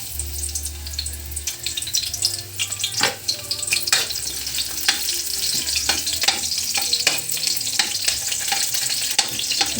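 Onions sautéing in hot oil for chicken adobo with tomatoes, a steady close sizzle with frequent sharp crackles and spatter pops throughout, plus occasional light stirring scrapes; no voices.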